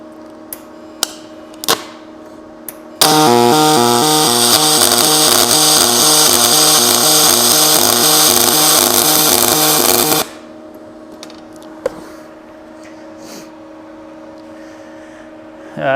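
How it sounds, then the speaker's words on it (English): A YesWelder Firstess DP200 multiprocess welder lays a dual pulse bead in a straight push, giving a loud, steady buzzing crackle with a rhythmic pulsing pattern for about seven seconds, with quieter shop sounds before and after. "That's a nice smooth weld, similar to when I'm weaving, but I'm just pushing her straight in."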